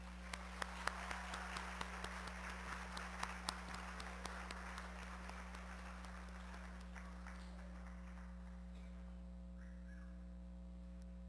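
A church congregation at a Korean Methodist anniversary service claps together in a burst of applause that fades out over several seconds, leaving a quiet hall with a steady hum.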